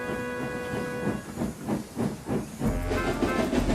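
A steam locomotive chuffs with a steady rhythm of hissing puffs, close and moderately loud, with a faint tonal ring underneath.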